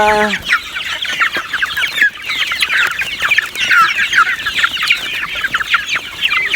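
Many farm chickens cluck and chatter continuously at close range, a dense, busy flock sound with overlapping calls and no talking.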